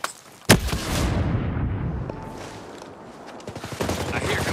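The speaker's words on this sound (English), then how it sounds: "Get down! Grenade!" A sudden loud blast from a grenade in the game Ghost Recon Breakpoint, followed by rumbling echo and scattered gunfire crackling, with a brief shouted voice underneath.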